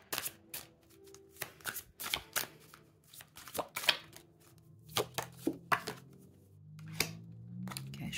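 Oracle cards are shuffled by hand at close range, giving a series of quick papery riffles and soft slaps in irregular bursts with short pauses, and no talk over them.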